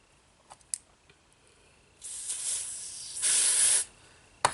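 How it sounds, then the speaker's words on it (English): Aerosol mousse foundation sprays from a can in two close hissing bursts, a shorter one then a stronger one about half a second long, with small clicks and handling noises around them. "Spray some more."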